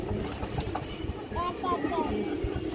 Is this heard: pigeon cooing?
yes